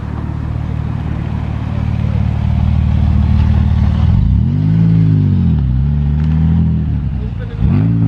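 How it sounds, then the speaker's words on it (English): A Vauxhall Nova saloon rolling into a cars-and-coffee meet, a close, loud engine drone that rises and falls with revs and gear changes, under steady background crowd noise. "Very purposeful looking Vauxhall Nova Saloon has just arrived."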